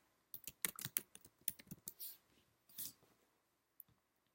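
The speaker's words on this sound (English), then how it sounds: "Type in the name of our new page." Quick bursts of computer keyboard typing as a page name is entered, a rapid run of soft clicks followed by a few slower taps and a lone final keystroke, close and quiet.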